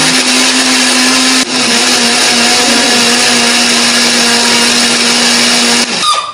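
A kitchen blender grinds chili, shallots, garlic and turmeric into a paste with a little water or oil, a loud continuous whirring that briefly dips once before the motor winds down and stops.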